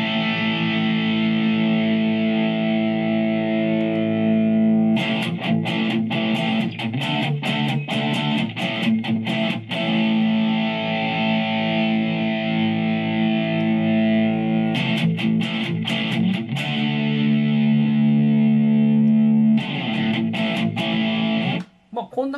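Tokai Talbo electric guitar played through a BOSS GT-1 Rat drive distortion, loud sustained distorted chords with rhythmic muted chugging strums, steady and close, no voice.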